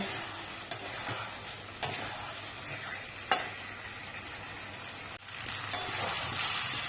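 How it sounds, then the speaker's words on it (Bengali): Potatoes sauté in a pan for a soybean cauliflower curry, with a constant bright sizzle broken by a few sharp spatula taps and scrapes spaced about a second or more apart, close and without speech. "পাঁচ মিনিট ধরে এটা ভালো করে আমি কষিয়ে নেব।"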